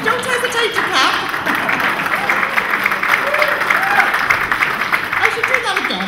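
An awards-show audience claps and cheers for nominated charities, a dense continuous wash of applause with some voices and shouts mixed in, loud and sustained throughout.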